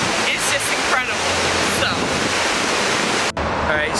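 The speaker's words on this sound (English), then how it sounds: "We have a waterfall to our back, it's beautiful" A waterfall at the Columbia River Gorge, heard as a loud, steady rushing roar of falling water mixed with some wind buffeting, with faint voices in the background.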